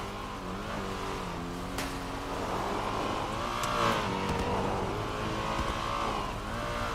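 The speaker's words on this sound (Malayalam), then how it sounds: "അതാ പോയിക്കണ എന്റെ വണ്ടി" A car in a multiplayer role-play video game pulls away, its engine note revving and rising steadily over several seconds at moderate loudness, with no talk over it.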